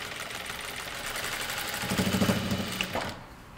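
A sewing machine stitches elastic onto a pair of pants, a steady mechanical whir running close and fairly loud, building to a quick burst of stitching near the end before stopping.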